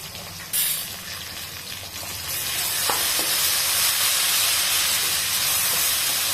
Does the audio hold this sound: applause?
no